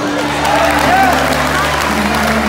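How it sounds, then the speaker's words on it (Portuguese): A church congregation applauds during a worship service, making steady, dense clapping throughout, mixed with crowd murmur and a voice speaking over it. "Você pode aplaudir."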